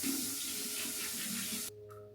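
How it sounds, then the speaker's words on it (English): Tap water running onto a beauty sponge at a bathroom sink, a steady close splashing rush that stops abruptly near the end. "I'm gonna wet my beauty sponge"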